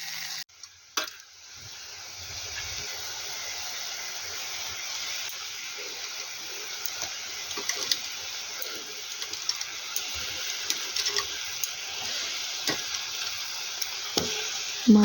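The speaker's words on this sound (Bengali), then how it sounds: "মশলা ভাজা হচ্ছে, মশলা ভেজে দিলাম।" Spice paste sizzles steadily in a hot pan for fish curry, a continuous close frying hiss with small stirring scrapes and clicks throughout, no voices.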